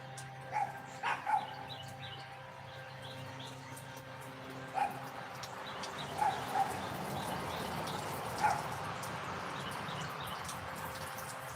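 Neighborhood dogs bark in scattered bursts of one or two yaps, distant and fairly faint against a quiet outdoor background, with a few birds chirping now and then.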